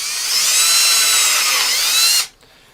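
A power drill whines steadily at high pitch while boring through PVC pipe, loud and close, then cuts off abruptly near the end.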